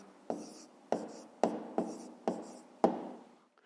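Six quick pen strokes scratch across paper one after another at a steady pace while a math answer is written out by hand, close and fairly quiet, with no talking.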